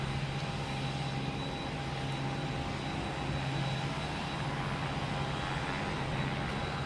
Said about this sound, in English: next to take off will be Delta heading to JFK